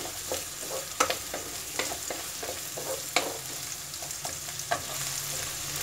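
Large chunks of sliced onion are sautéed in a hot pan for matar paneer: a steady sizzle with about a dozen irregular scraping stir strokes close by, some sharper than others, and no speech.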